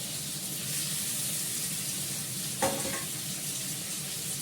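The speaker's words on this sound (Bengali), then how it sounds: "আলুটাকে ভালো করে ভেজে নিই" Potatoes fry in a pan with a steady, close hiss and crackle, broken near the end by a brief clatter, likely a spoon against the pan.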